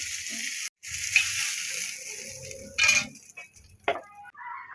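Fish frying in oil, a soft steady sizzle near the pan, interrupted by clinks of utensils and pot scraping, with a short pause and a sharp clatter near the end.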